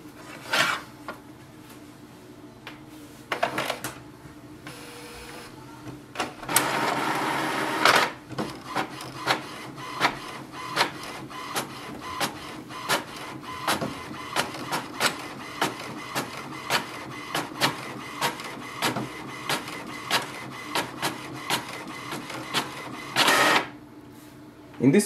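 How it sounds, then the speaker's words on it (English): An HP Envy 6155e all-in-one inkjet printer whirs and clicks rhythmically as it feeds and prints a page, with repeated short mechanical strokes, close by. "Now your printer will print a page with the password on it"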